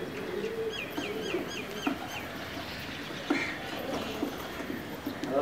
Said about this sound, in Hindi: ये देखें अब्दुल्ला भाई के कबूतर